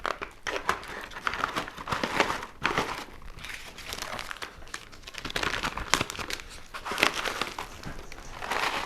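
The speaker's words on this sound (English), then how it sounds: "what I do is just tear it open at home." A Mountain House freeze-dried meal pouch is torn and crinkled open at close range, with steady crackling plastic-foil rustling and no voices.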